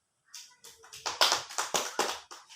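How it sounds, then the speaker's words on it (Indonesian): A short round of applause in a classroom for a student, roughly a dozen sharp hand claps at an uneven, quickening pace from a few people nearby. "Mari kita berikan aplaus untuk Desi"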